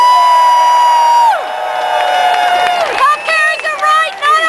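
A rally crowd at a Seattle health care reform event cheers and whoops for Senator Edward M. Kennedy, loud and close. Sustained tonal whistling or horn-like sounds sweep through the noise, and voices shout over it.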